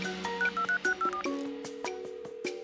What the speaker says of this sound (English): To the bamboo phone.